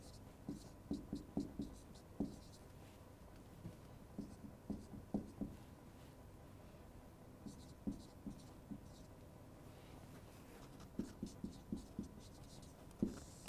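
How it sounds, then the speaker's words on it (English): Pen writing notes on paper while copying figures from an accounting exam question paper, a run of short scratchy strokes that come in clusters with pauses between them, close and quiet, with no one talking. "I am noting down from the question paper."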